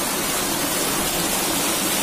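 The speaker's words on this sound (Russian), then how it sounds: "Шум воды." Water from a fountain in Plovdiv's city centre pours down in a steady, dense splashing rush, close and continuous throughout, with no voices.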